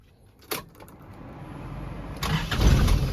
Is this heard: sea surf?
no